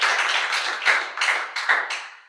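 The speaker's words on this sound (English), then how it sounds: "if you could give yourselves an applause for being here" Audience at a poetry gathering applauding, a dense wash of clapping hands that swells in a few waves and then thins out near the end, with no voices over it.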